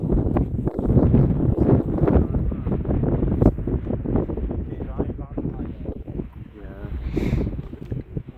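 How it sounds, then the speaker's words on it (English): Strong wind blasts across the clifftop at Bempton on the Yorkshire coast. The gusts buffet the microphone in loud, uneven roars that continue throughout. "it's very windy as usual, no surprise there."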